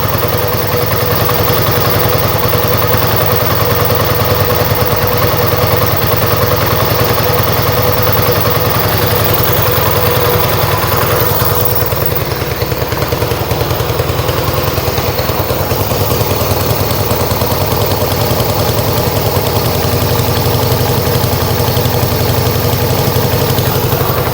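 Steady, loud idle of a Yamaha XS1B motorcycle engine while its carburetor idle mixture is adjusted, a continuous close-up rumble with a fast even pulse and a slight shift in tone midway.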